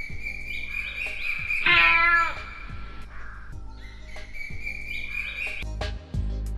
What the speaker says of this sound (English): In the morning, the cat mewed.